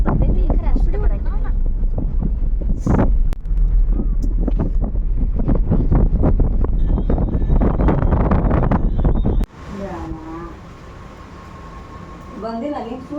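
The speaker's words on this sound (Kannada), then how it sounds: "ಭಾಳ ಗಾಳಿ ಬರ್ತೈತಿ" Strong wind gusts buffet the microphone at a village fair, a loud, steady roar for most of the stretch that drops away abruptly near the end, with voices talking underneath.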